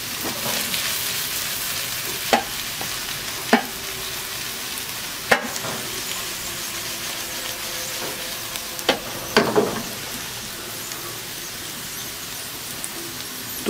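Spiced mixed vegetables frying in a pan with coriander, garam masala, black pepper and turmeric, heard as a steady close sizzle with occasional scraping knocks of the stirring spoon against the pan, and no talking.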